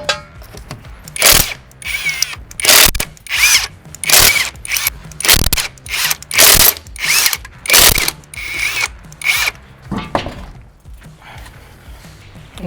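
A power tool, likely an impact wrench, loosens the lug nuts on an off-road vehicle's wheel, firing in about nine loud, close, repeated bursts with short pauses between them.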